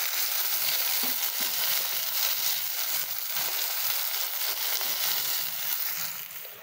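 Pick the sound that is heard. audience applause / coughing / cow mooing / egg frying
egg frying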